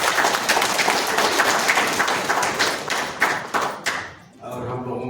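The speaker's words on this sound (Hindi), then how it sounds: "सब लोग ताली बजा के उपस्थित।" An audience at a foundation day gathering claps in a dense burst of applause that thins out and fades, leaving a murmur of voices at the end.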